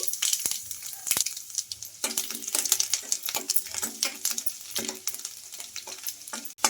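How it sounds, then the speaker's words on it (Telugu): Chopped garlic, cumin and mustard seeds fry in hot oil with a crackling sizzle, seeds popping in sharp bursts while a spoon stirs and scrapes the pan. "ఇప్పుడు ఇందులోకి చిన్నగా కట్ చేసుకున్న వెల్లుల్లి అయితే వేసుకోవాలండి"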